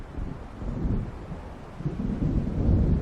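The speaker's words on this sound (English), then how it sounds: "It seems there's a storm coming." Thunder rolls low and continuous from an approaching storm in the Alan Wake video game, a deep rumble swelling and easing over wind and light rain without any voices.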